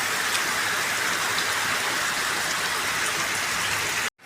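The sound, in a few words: rain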